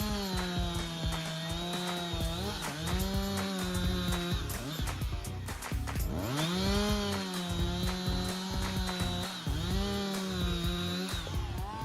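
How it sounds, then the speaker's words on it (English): A Husqvarna 359 chainsaw cutting through giant logs, its engine droning loud and steady throughout, with the pitch sagging under load and climbing again as the chain bites and frees. "Continue with the Husqvarna 359 chainsaw, a symphony of power and precision."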